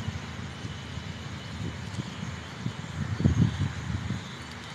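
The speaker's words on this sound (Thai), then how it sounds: "ลมแรงมาก" Strong wind blows ahead of an approaching rainstorm in Udon Thani, Thailand. It comes as a continuous, rough, low rumble, with gusts swelling louder near the end, and no voices are heard.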